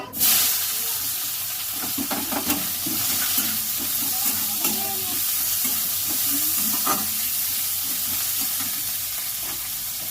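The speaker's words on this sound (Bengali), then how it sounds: "এবার দিয়ে দেবো পেঁয়াজ, ভেজে নেব।" Onions fry in hot oil in a pan for a Bengali fish-head and red amaranth dish, giving a loud, continuous sizzle and hiss close by, broken by occasional stirring scrapes.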